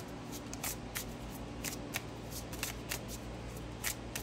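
Tarot cards are shuffled close by in quick, crisp riffling bursts, with a soft shuffling hiss between the snaps.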